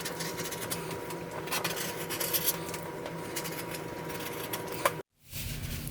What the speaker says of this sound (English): Start by cutting the top circle out of the green fabric.